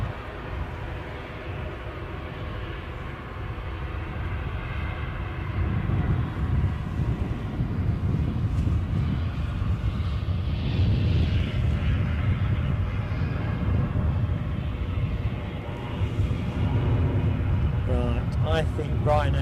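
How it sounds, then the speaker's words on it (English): A Ryanair jet taxis at Edinburgh Airport, a steady low rumble with a broad engine roar that swells midway and holds loud, heard close with wind across the mic and a voice briefly near the end. "Ryanair is going to be the final plane of the show, so that's just taxiing out behind this Logan Air"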